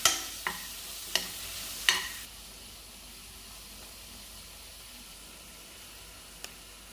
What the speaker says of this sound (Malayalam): ഗരം മസാലയും ചേർത്ത് നല്ലപോലെ മിക്സ് ചെയ്യാം